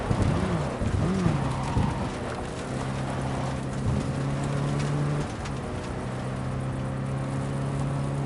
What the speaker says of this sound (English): That is one hell of a storm!